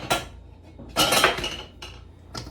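A spatula scrapes and knocks against a mixing bowl while stirring Christmas cake batter, in a few short, close bursts with brief pauses between them.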